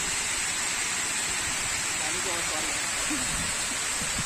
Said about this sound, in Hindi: ये वाटरफॉल का ही जो पानी है वो नीचे की तरफ जा रहा है